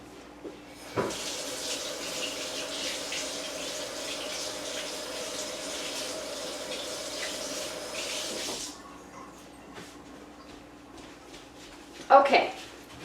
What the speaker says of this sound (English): I'm gonna real quick rinse my brush.